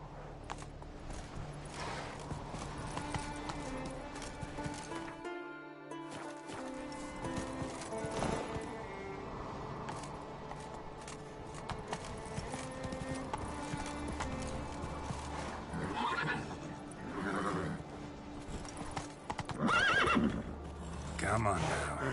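A horse in The Witcher 3 video game gallops with rhythmic clip-clopping hooves and lets out loud whinnies, with game music and a voice talking over it.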